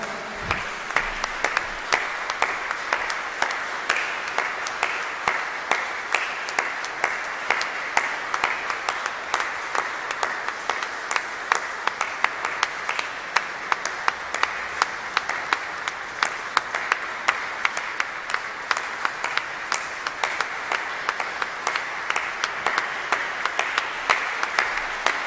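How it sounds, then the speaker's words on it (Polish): Concert audience applauds after an organ recital, long even clapping from a sizable crowd that holds steady at moderate volume throughout without talk. "zasłużył na ogromne brawa"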